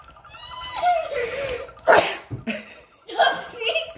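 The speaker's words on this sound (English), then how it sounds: "Uh-oh, I have to sneeze." A single sharp sneeze bursts out in the middle of ongoing chatter, loud and close, followed by more talking and a brief breathy reaction.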